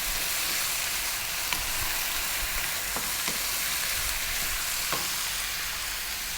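Red kidney beans hiss and sizzle steadily in a hot pan of spicy chicken fried rice, with a few faint scraping clicks of stirring scattered through the constant frying noise.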